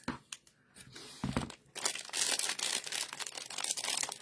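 A chunk is cut off a peach pie ribbon at a farmers market craft stall, giving close tearing and crinkling noises that start in short bursts and turn into a continuous rough rip.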